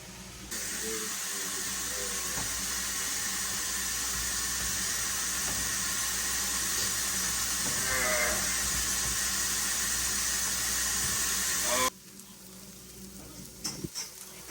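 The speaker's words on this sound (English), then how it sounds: "You can still hear it sizzling." A steady, loud sizzle of mushrooms and spinach frying in a pan hisses for several seconds, with faint stirring clinks, then drops off abruptly near the end.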